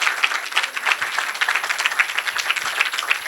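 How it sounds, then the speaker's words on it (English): Audience applause at a college alumni reunion, many hands clapping in a dense, steady patter from a crowd nearby. "give yourself a round of applause for being here today"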